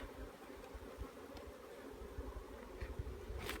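Honey bees droning steadily around an open hive during a colony split, a dense continuous hum with a faint motor-like undertone and occasional brief closer buzzes.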